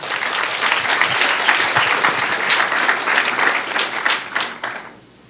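A seated audience at a student lightning talk session breaks into sustained applause, a dense wash of clapping hands that holds steady for about five seconds before quickly tapering off.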